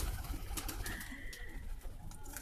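Pigeons coo in low, throaty murmurs nearby in Saham, Oman, with a few soft bird calls and light outdoor background noise.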